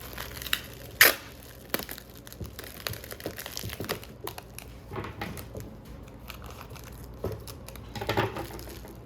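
Crinkling plastic and tape being wrapped around an electrical cord, with scattered rustles and a few sharp crackles and tearing sounds up close.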